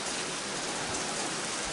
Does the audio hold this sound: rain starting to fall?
yes